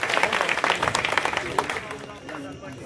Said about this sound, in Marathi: त्यांच्यासाठी एकदा टाळ्या वाजा.